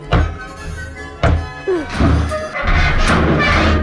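Several heavy wooden thunks and knocks as a crowbar is jammed and wedged into a wooden box in a video game, with creaking scrapes between the hits, close and loud.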